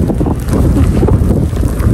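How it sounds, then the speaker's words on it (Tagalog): Strong, cold wind buffets the microphone while walking on piled snow, with a steady, loud low roar and no break. "Lakas ng hangin."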